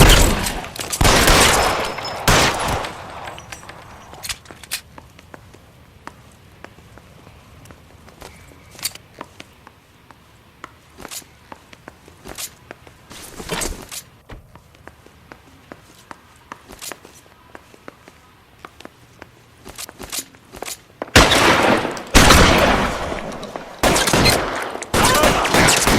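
Gunfire in L.A. Noire comes as scattered sharp bursts of single shots and short volleys, loud clusters at the start and a heavier barrage near the end, with quieter stretches of footsteps and shuffling in between.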